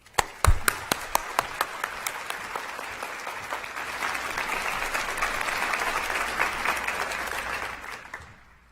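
Audience applause welcoming a speaker at an autism conference session, a few sharp individual claps at first swelling into steady, full clapping from a sizeable crowd that fades out at the end.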